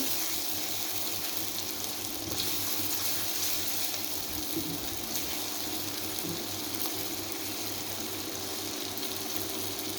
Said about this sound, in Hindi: अब हम इनको थोड़ा सा भूनेंगे।